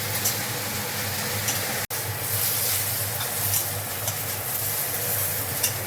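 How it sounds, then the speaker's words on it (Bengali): Onions fry in a pan for stuffed capsicum dolma, a loud, close, continuous sizzling hiss that stays even throughout apart from one brief dropout. "পেঁয়াজটা ভাজা হয়ে গেছে"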